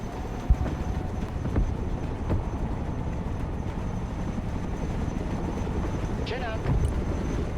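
Chinook heavy transport helicopter in the war game Broken Arrow, a steady rotor rumble running throughout with a brief thump near the start, under radio chatter and battle noise.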